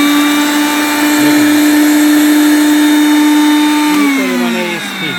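A Panasonic mixer grinder runs empty at high speed, a loud, steady motor whine with a strong tonal hum that shifts slightly in pitch near the end, close and without talk.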